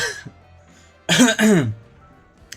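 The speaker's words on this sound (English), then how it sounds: "You were doing so well, and then you just started coughing." A video game character coughs twice in quick succession, a loud, hoarse, throat-clearing burst near the mic in Goddess of Victory: NIKKE, with a quiet lead-in and near-silence after.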